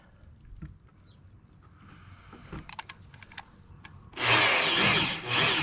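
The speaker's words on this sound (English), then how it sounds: "Get the drill started." Light handling noises and clicks lead into a loud power drill whirring up close for over a second, briefly dipping before continuing.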